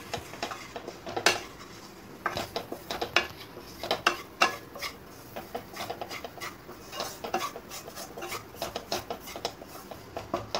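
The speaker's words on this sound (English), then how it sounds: "stir it well" Metal spoon scraping and clinking against a pan while gram flour is stirred for besan halwa over a medium flame, a steady run of close, irregular scrapes and taps with no talking.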